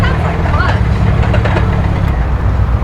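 A Ford Focus RS engine running rough at idle, a steady loud low rumble with uneven pulses, close by and continuous throughout.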